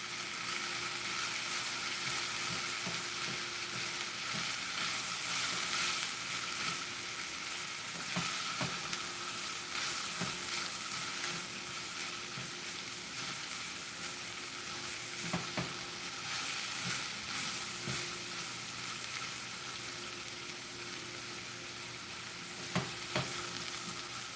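Cabbage sizzles and fries steadily in a pan, with occasional stirring scrapes and clicks over a constant hiss throughout, no voices.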